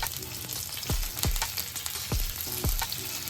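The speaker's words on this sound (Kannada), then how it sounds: "ಎಣ್ಣೆ ಕಾದಿದೆ. ನಾನು ಇವಾಗ ಸಾಸಿವೆ ಹಾಕ್ಕೊತಾ ಇದ್ದೀನಿ. ಆಮೇಲೆ ಜೀರಿಗೆ ಹಾಕ್ತಾ ಇದ್ದೀನಿ." Mustard seeds, cumin, chilies and curry leaves fry in hot oil for an aloo sagu, a steady close crackling sizzle with several sharp pops and spatters, no voices.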